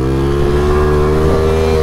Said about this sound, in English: It's like a BMX bike with a motor.